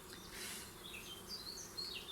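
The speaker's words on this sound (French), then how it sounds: "Les abeilles, elles étaient un petit peu énervées" Agitated bees buzz around an open beehive nucleus, a faint wavering drone with individual insects rising and falling in pitch as they fly close past.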